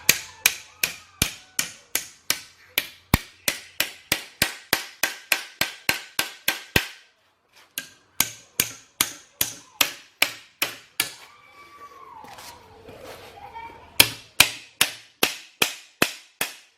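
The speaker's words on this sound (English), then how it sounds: "And then pound them all the way around." A hammer pounds the clips down on a Toyota rear leaf spring during a rebuild, sharp metallic strikes in a steady fast rhythm, a short pause, another run, a brief scraping patch, then more strikes, close and loud.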